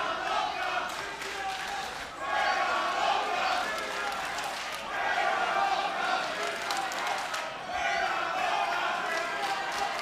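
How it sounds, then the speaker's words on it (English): Wrestling crowd in Poughkeepsie at a live pro wrestling event, a dense roar of many voices chanting in repeated rising waves, steady and loud throughout with no distinct commentary on top. "Chants of La Huera Loca."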